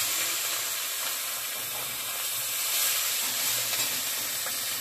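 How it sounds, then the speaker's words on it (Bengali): Cumin seeds and chilies tempering in hot oil for a Bengali fish-head ghonto with chickpea greens and spinach: a steady, close, hissing sizzle with faint crackles, holding fairly even throughout with no talk. "এটা জিরে লঙ্কা ফোড়ন দিয়ে দিলাম।"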